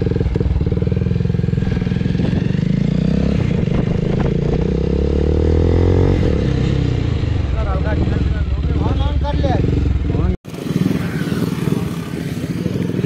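A motorcycle with an extremely loud exhaust revs hard in jammed traffic, a deep roaring engine close by that rises and falls, cuts off abruptly, then returns, with voices mixed in.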